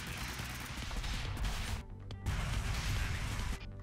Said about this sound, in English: there's a lot of explosions happening here